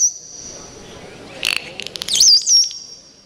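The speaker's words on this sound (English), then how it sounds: "Now, winter, of course, is famous for that Tweety bird noise that you hear. That is her signature whistle." Bottlenose dolphin at Clearwater Marine Aquarium producing its signature high, tweety-bird-like whistle, several short chirping rising and falling whistles over a soft background hiss, fairly close.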